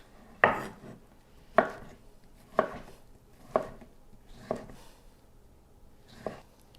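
A knife chops butternut squash and other vegetables roughly on a cutting board: six crisp, evenly spaced thuds about a second apart, close and fairly quiet, with no talking.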